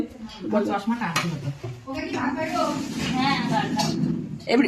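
Pots knock and a serving spoon scrapes and clinks as cooked meat with potatoes is dished out from a large pot at home, close and intermittent beneath steady conversation.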